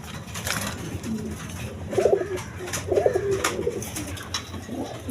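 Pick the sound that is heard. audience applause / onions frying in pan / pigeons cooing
pigeons cooing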